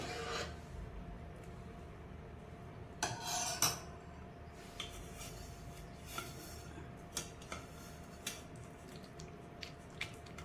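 Boiled raw mango pulp pushed through a sieve in a home kitchen: faint, quiet scraping and rubbing with sharp little clinks of metal against the strainer at irregular intervals.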